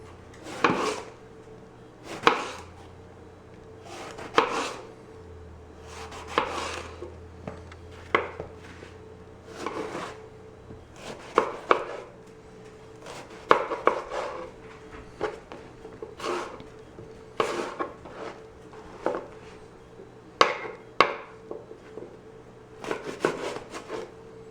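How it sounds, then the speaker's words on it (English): Eggplant cut with a serrated knife on a board, a run of regular chopping knocks with a sawing rasp between strokes, close and clear with no talk. "For the eggplant, I'm going to use a serrated knife."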